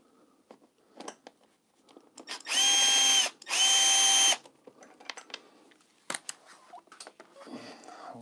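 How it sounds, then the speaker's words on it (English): An electric screwdriver fitted with a bendable-end attachment, used while upgrading a BMW R1250GSA motorcycle: two steady whirring bursts of about two seconds each, near and loud, among small handling clicks and taps. "I've got a special attachment on my screwdriver here where I can bend the end."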